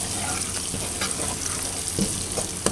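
A tadka of ground garam masala fries in hot oil for a moong masoor dal, giving a dense, continuous sizzle sprinkled with small pops and spoon scrapes, close and without speech.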